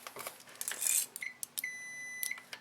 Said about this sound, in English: I'm going to set it to my ohm setting, continuity, so I hear that tone.